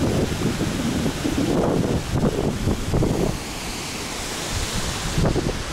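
Strong wind blows outdoors near the Keila waterfall, buffeting the microphone in continuous loud gusts with a broad roaring rush that swells and eases, and no voices.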